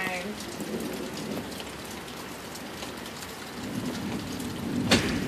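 Heavy rain falls steadily during a thunderstorm in Las Vegas, a dense hiss of drops on surfaces with a brief sharp crackle near the end.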